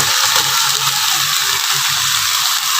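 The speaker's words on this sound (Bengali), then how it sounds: "এবার ভেজে রাখা মাছগুলো দিয়ে দেব।" Fried fish dropped into hot spiced masala in a pan gives a steady, loud hiss and crackle of sizzling oil, continuous and close throughout.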